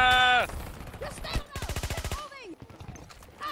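A PP submachine gun firing in the shooter game Battlefield 2042, a close, rapid automatic burst of evenly spaced shots lasting under a second, with other game sounds and voices talking around it.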